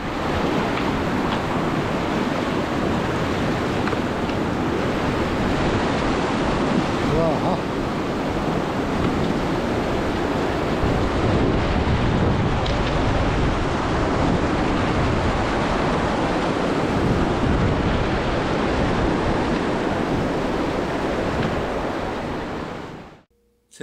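A river rushes and churns loudly around someone wading across barefoot on the Timberline Trail, a constant close roar with wind buffeting the microphone that cuts off at the end.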